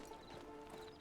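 Hooves clip-clop steadily on a horse in Red Dead Redemption 2, a quick run of soft, even steps with a faint whinny-like tone mixed in, no talking.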